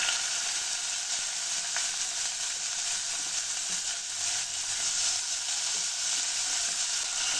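Onion frying in a pan for a cabbage beetroot poriyal gives off a loud, even sizzle that hisses without a break, close to the pan, with no speech.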